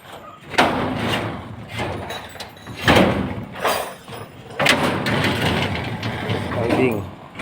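A sliding door on a Taiwan-style pigeon loft being installed in Orani, Bataan, rolls and clatters in several scraping, banging bursts, with people talking nearby and an engine running in the background.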